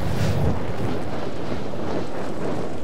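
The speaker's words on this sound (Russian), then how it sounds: "Так, 10 метров. Нас ветер уносит." Rushing wind roars steadily while the player glides in the video game Dying Light 2, a loud broadband buffeting with no speech over it.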